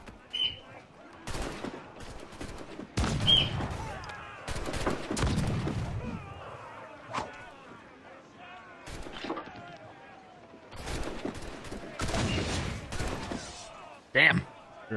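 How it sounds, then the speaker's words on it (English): Mortar fire from a sailing ship in Assassin's Creed: Black Flag, several heavy booming blasts with rumbling tails spread across a long stretch, interspersed with quieter gaps and someone talking. "start shelling him with mortars"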